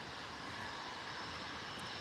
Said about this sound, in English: something is definitely starting up on our left side here in the private jet area, or the cargo area. So, yeah, that sounds like a private jet.